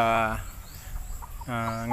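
Pet chickens give two loud, close, drawn-out clucking calls, one at the start and one near the end, with quieter scratchy farmyard noise between.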